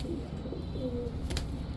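A black bald-head Birmingham Roller female pigeon gives soft, low cooing close by against a steady background hum, with a faint brief rustle partway through.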